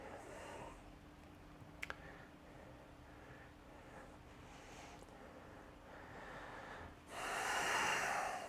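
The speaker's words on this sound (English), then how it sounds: "Two more breaths." Deep breathing during a dynamic core yoga flow, a soft steady breath sound over quiet room noise, with a brief sniff-like snort near the start and a louder, breathy exhale toward the end.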